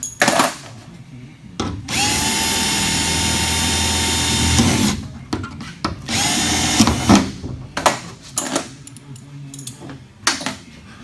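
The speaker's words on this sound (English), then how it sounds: "When I drill it, it's powder, not fire." A power drill whines steadily for several seconds into titanium, then runs in shorter bursts amid clanks and workshop noise.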